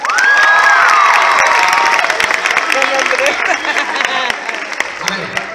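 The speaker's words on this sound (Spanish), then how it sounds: "Aplauso para Luisa." A loud crowd at an anime expo claps and cheers, with shouts and whoops rising over continuous applause that gradually eases off toward the end.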